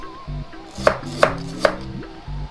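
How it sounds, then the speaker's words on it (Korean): A knife chops through water spinach on a board, with three crisp, evenly spaced thuds following quieter cutting sounds. The chopping is close and clear, with no one speaking. "지금 썰고 있는 거는 공심채고요"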